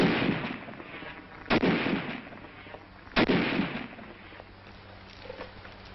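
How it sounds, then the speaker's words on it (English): A Tommy gun fired in a 1944 Army training demonstration, heard as two sharp loud bursts about two seconds apart over a dense, hissy old film soundtrack, with rumbling noise in between. "A Tommy gun."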